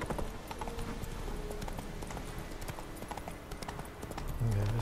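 Horse hooves clip-clop at a run in The Witcher 3 video game, a steady rapid rhythm of close, clear hoofbeats over a continuous background, with a brief snort or whinny near the end.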